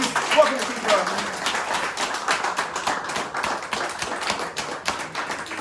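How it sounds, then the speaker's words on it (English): Scattered clapping from a small outdoor crowd at a house auction welcoming the new purchaser, a loose patter of individual hand claps, close and uneven. "please give a round of applause to new purchaser"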